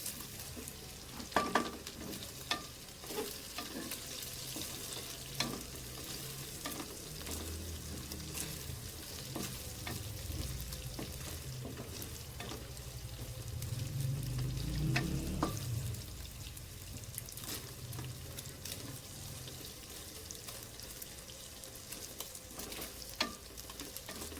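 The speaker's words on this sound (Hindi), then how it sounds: "इसको हमने इसी के अंदर फ्राई करना है, चिकन को इसी और घी में करना है" Chicken pieces frying in ghee for chicken jalfrezi, a dense continuous sizzle with occasional stirring scrapes and a brief louder surge midway, close and steady with no talk.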